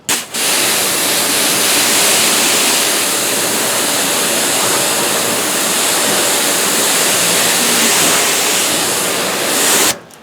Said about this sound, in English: I'll back the pressure washer wand up and lightly mist it